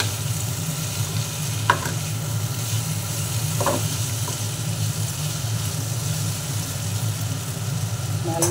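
Salted mixed vegetables fry in a pan, a steady low sizzle with a couple of distinct spoon scrapes and knocks as they are stirred, over a constant background hum.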